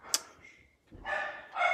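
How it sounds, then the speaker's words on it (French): A dog barks close by with a sharp yip, then sustained whiny barking and whimpering follows in bursts indoors at a mixed-media art crafting session. "Désolée pour mon chien."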